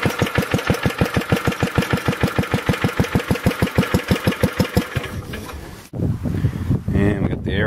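An engine cold-starting at 18 degrees: a fast rhythmic cranking chug repeats steadily for about five seconds, then a sharp break and the motor catching into a rougher running sound, loud and close.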